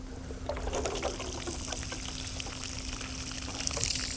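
Water is poured onto a pile of rock in a mountain erosion demonstration, making a close, steady trickling and splashing that carries on through the short clip alongside a faint constant hum, with no voices heard.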